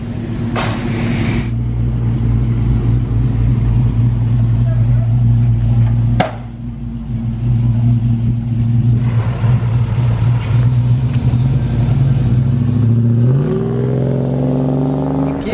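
Twin-turbo car engine running at 21 pounds of boost, a steady close, loud idle rumble that climbs into a rising rev near the end.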